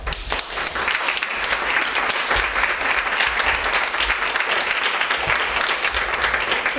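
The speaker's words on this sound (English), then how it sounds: "give yourselves a round of applause" Conference audience applauding steadily and loudly throughout, a dense wash of many hands clapping with no pauses or talk.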